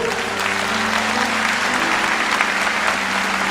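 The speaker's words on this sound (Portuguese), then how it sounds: "Vamos dar uma salva de palmas para o Senhor." A church congregation applauding together, a dense steady wash of clapping hands filling the room at an even loudness, with a faint sustained musical tone beneath and no speech.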